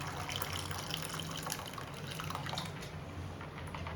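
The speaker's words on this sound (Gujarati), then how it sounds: "હું 1 ગ્લાસ પાણી એડ કરું છું" A glass of water is poured into a homemade mango drink mixture, making a faint, steady trickle and splash with no speech.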